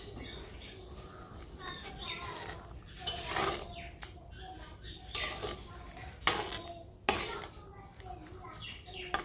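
Fish frying in a pan for curry, heard as soft sizzling with sharp clinks and scrapes of utensils against metal cookware in irregular bursts, fairly quiet and close.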